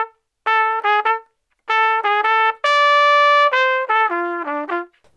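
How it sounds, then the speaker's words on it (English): Trumpet played without vibrato in a jazzy etude phrase, several short detached notes followed by one long sustained dotted note and a descending run, bright and close with no talking. "A dotted crotchet could sound, if I don't use vibrato, it would sound like this."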